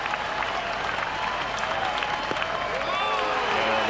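A baseball crowd at U.S. Cellular Field cheers for the White Sox against the Braves in a dense, continuous wash of applause and shouting, with broadcast commentary carrying on over the noise.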